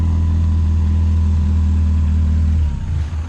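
A hot rod's little 4-cylinder engine with overdrive runs at a steady, loud low drone close by, its tone shifting and easing slightly near the end.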